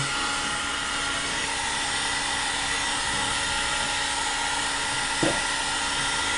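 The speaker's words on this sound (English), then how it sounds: "in this case we're just going to use the heat gun" A heat gun blows hot air onto a leather sheath, giving a steady, loud, unbroken blowing hiss with one brief soft knock near the end.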